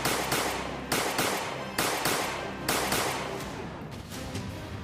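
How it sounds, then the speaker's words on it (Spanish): Gunshots fired at a delivery vehicle on a street, a series of sharp loud cracks spaced roughly a second apart, some in quick pairs, each followed by a short ringing decay. "ataca a balazos la unidad."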